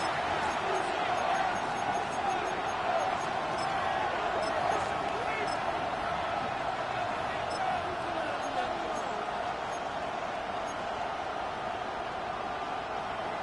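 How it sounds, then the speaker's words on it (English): A stadium crowd roars steadily through a televised Sunday night football game, a dense sustained wash of noise with a commentator's voice faintly over it. "The crowd making their presence felt"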